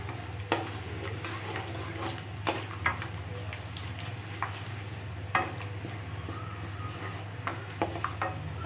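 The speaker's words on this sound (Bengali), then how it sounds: "2টা তেজপাতা, 2 টুকরা দারচিনি আর 3টা এলাচ। এগুলোকে একটু ভেজে নেব।" Bay leaves, cinnamon and cardamom fry in a pan with a steady low sizzle, while a spoon scrapes and stirs in sharp, irregular clicks throughout.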